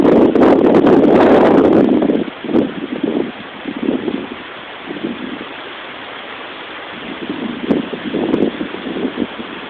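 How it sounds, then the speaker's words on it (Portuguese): Wind from Tropical Storm Irene in Peabody, Massachusetts, buffets the microphone in strong rushing gusts at first, then eases into a lighter, steady outdoor blowing with intermittent swells. "E algum vento."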